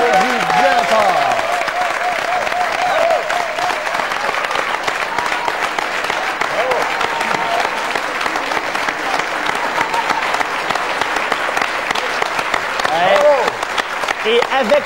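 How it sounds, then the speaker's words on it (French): Sustained, loud audience applause at a 1996 Télé-Métropole 35th-anniversary television gala, saluting the production and administration teams, dense clapping throughout with voices and a presenter talking over it. "Messieurs, on vous applaudit bien fort."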